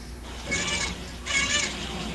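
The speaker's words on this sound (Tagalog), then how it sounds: "Parang pusa yung narinig namin" A cat meows twice, each call drawn out and moderately loud against a quiet outdoor background, with a short pause between them.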